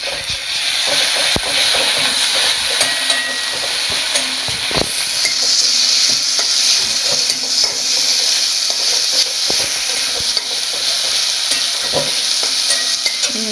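Ginger-garlic paste and softened tomatoes sizzle steadily in a pan for a Bengali bhetki fish kalia, with continuous frying hiss and occasional scraping stir clicks throughout, close and loud.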